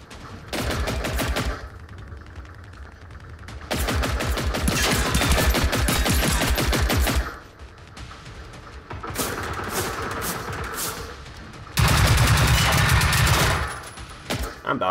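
Automatic gunfire against robots in the video game Generation Zero comes in loud, rapid bursts, several sustained volleys separated by short pauses.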